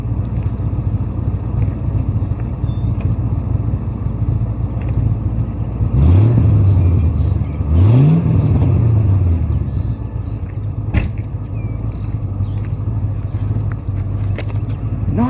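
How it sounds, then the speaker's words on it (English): A Triumph Stag engine with a stainless steel exhaust rumbles at a steady idle close by, then rises in two quick revs about two seconds apart before settling back to idle. "And I'll give it a rev."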